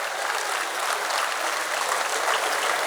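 Audience applause at a Tamil speech contest prize ceremony, an even, sustained wash of many hands clapping at moderate loudness with no break.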